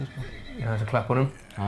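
Horse in Red Dead Redemption 2 gives a short whinny while someone talks over it in Icelandic.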